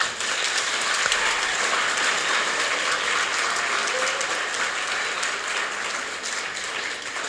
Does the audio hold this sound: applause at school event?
yes